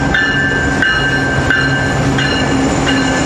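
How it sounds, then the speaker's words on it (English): A freight train rolls past close and loud in a city neighborhood, a steady heavy rumble with rhythmic clacks of wheels over rail joints and a high squealing tone riding on top. "Here's a freight train coming by."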